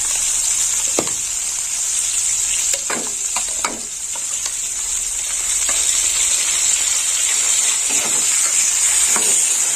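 Long beans and onion paste fry for a kachkel fish curry, giving a loud, steady sizzle close by, broken now and then by sharp stirring scrapes and clicks.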